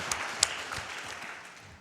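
An audience at a speedrunning marathon event gives a short round of applause, with scattered claps fading steadily over a couple of seconds.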